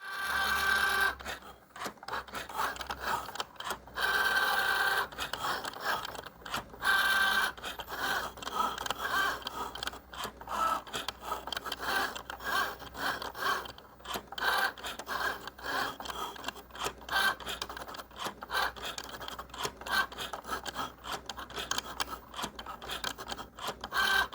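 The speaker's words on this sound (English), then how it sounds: "the Cricut will start cutting" A Cricut cutting machine slicing through card, giving a continuous close rasping, buzzing whir with rapid stuttering rhythm as the carriage moves back and forth, steady throughout with no talk.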